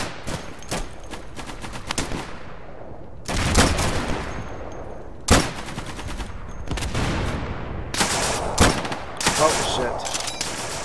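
Gunfire in the video game Day of Infamy, set at the Battle of the Bulge: repeated loud rifle and machine-gun bursts with sharp single cracks and sustained volleys throughout, close and dense.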